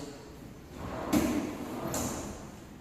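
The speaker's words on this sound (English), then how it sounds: "And you have here the drawers." Wooden walk-in closet drawers in a Cebu house slide open and shut twice in quick succession, each a soft close rumble ending in a light knock, with no one speaking.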